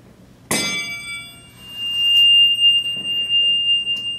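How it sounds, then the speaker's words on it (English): A metal rod is struck with a sharp clang, then rings on with a clear, sustained high tone that fades slowly. "This rod is ringing right there"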